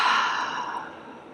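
A single long, breathy yawning exhale during a bedtime yoga session, starting strong and close, then slowly trailing off.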